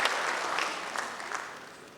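Applause from a crowd at a memorial tribute, steady clapping that gradually thins out over a couple of seconds.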